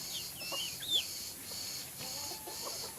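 Backyard chickens cluck softly in short, scattered calls with a few higher squawks, fairly faint over a steady background hiss.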